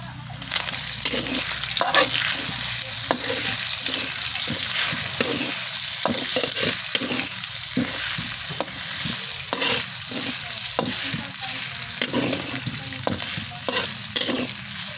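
Garlic and onion sizzle in hot oil in a pan while a spoon scrapes and stirs in regular strokes, close and steady for the whole stretch with no talking.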